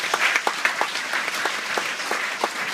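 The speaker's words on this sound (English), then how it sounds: "Give him a big round of applause, by the way." A cruise ship audience at a hypnosis show claps steadily, with a dense, continuous patter of applause from a modest crowd close by.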